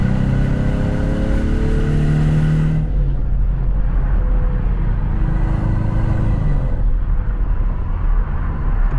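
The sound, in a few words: 2024 Ford Mustang EcoBoost accelerating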